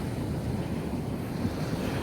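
Sea waves break on the shore after a storm, a steady rushing surf roar mixed with gusty wind buffeting the microphone.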